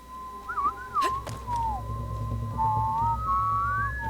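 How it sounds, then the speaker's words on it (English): Someone whistles in a video game, a clear melodic tune that wavers and slides, loud and close over a low rumbling background, with a couple of thuds near the start. "Someone was whistling."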